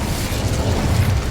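The Incendio fire spell is cast in the video game Hogwarts Legacy, a loud, dense roaring burst of rumbling flame that fills just over a second without letup.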